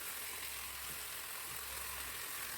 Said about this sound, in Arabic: هفضل اشوح بقى في الفراخ لحد ما تاخد لون حلو معايا